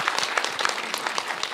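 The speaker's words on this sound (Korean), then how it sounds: "따뜻한 응원과 격려의 말씀해 주신 청장님께 다시 한번 박수 부탁드립니다" Brief applause from the audience at a district forum on multicultural family life, a sparse patter of claps with some distinct sharp individual hand strikes, heard alone for under two seconds.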